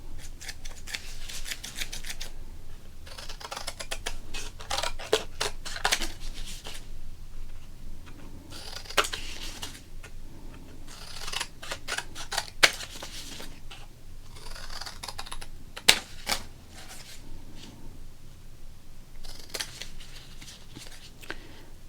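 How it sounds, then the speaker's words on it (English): Scissors snip repeatedly through a 1987 baseball card, crisp close cuts in irregular bursts with small rustles and scrapes of card stock between them. "We cut up a Don Slott. Let's do that now with this 87."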